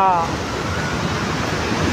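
Strong, steady flow of water surging past at full volume, a close, continuous rushing roar that fills the whole stretch, with a brief voice at the very start.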